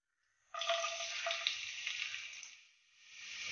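Chopped garlic hits hot refined oil in a kadai for chilli chicken, bursting into a sudden bright sizzle that holds loudly, dips briefly, then swells again, with no voices.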